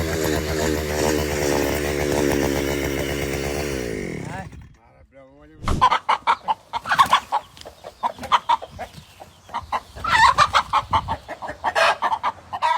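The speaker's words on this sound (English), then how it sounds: "Chickens bring in the right attitude to a fight they should lose." Farm chickens squawk and cluck during a fight, agitated bursts following a steady mechanical drone that cuts out midway, with people talking between the animal calls.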